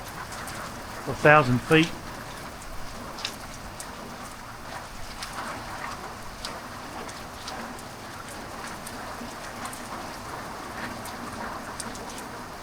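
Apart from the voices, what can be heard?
heavy rain during a thunderstorm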